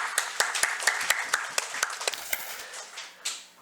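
Church congregation claps in a quick burst of sharp, distinct handclaps that thin out and fade after a few seconds, with voices murmuring under the clapping.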